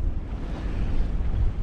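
Waves and wind wash steadily around a sailboat hove to with a small piece of jib out, sitting about 45 degrees to the seas; a loud, continuous rushing roar with gusty microphone buffeting and no voices.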